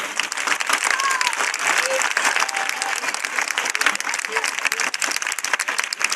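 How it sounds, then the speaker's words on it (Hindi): Audience applause at a Hindi-Urdu church gathering honoring Pastor Mushtaq, a steady dense clapping with crowd murmur and faint voices mixed in throughout. "अब भाई मुश्ताक के लिए हम जोरदार तालियां बजाएं।"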